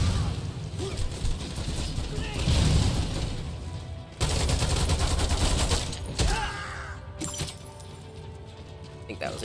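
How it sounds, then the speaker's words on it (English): Loud bursts of grenade explosions and sustained gunfire from the shooter game Lost Planet 2 fill the scene, with dense rattling volleys, heavy booms and brief lulls between blasts. "Just use the last of our grenades."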